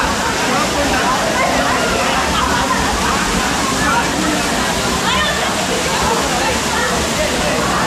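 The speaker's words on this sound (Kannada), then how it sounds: "ಅಪ್ಸರಕೊಂಡ ಫಾಲ್ಸ್ ಅಂತ ಮುರುಡೇಶ್ವರದಿಂದ ಒಂದು 15-22 ಕಿಲೋಮೀಟ್ರ್ ಆಗುತ್ತೆ" Apsarakonda waterfall near Murudeshwara on the Karnataka coast pours with a loud, steady rush of falling water, heard close. Voices talk over it throughout.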